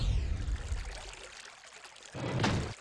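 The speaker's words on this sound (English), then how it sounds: "This is the Egret Brook. Flows through town and out under the railway." Brook water flows in the Steambot Chronicles video game as a steady, rushing wash, with a louder surge near the end.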